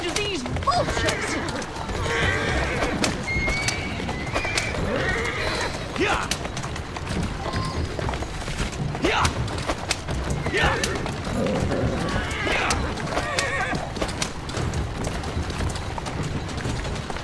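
In Assassin's Creed Syndicate, a carriage horse's hooves clip-clop at a run while it neighs and whinnies several times, with clattering and voices mixed in throughout.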